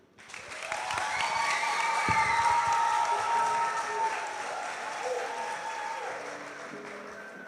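Audience applause at a preparatory school graduation ceremony, swelling quickly into a full, sustained wave of clapping with light cheering, then easing slightly while continuing to the end.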